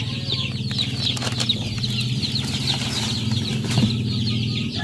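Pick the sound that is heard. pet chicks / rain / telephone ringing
pet chicks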